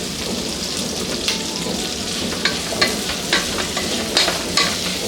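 Garlic and five or six green chillies frying in plenty of oil for ridge gourd chutney, a steady close sizzle with scattered crackles and the occasional scrape of stirring, no voices.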